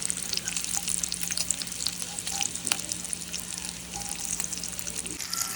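Bacon frying in a pan for homemade egg and cheese breakfast bagels, a steady close crackling sizzle with scattered sharp pops throughout.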